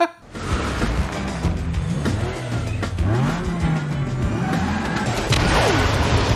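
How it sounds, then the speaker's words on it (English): A rocket-powered Pontiac Fiero in the film F9 roars and revs loudly with tire squeals, whooshes and sharp crashing impacts, a dense, chaotic action-scene mix with no talking. "Pontiac Fiero. Strapped to a rocket engine?"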